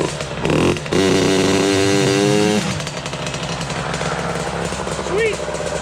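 A Suzuki motorcycle engine belonging to a rider cranks and fires into a loud, buzzing run, then settles to an uneven idle. A brief voice is heard near the end.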